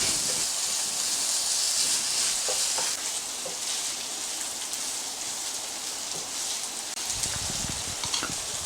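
Hakka noodles with vegetables and a spoon of chilli sauce being stir-fried and mixed in a pan, giving a steady close sizzle and hiss with faint scraping stirs throughout, no voices.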